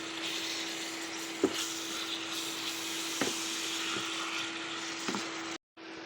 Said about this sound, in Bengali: চিকেনটা ভালো করে ভেজে নেব।